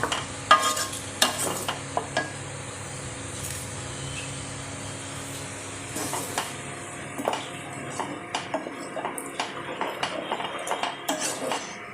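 A utensil stirs thick butter chicken gravy in a metal pan, scraping and clinking in irregular bursts over a soft background sizzle, close and fairly loud with no speech.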